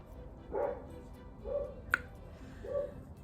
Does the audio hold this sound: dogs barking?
yes